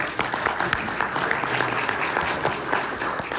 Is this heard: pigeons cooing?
no